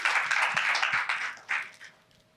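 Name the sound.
round of applause from audience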